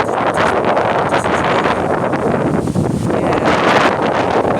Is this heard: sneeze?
no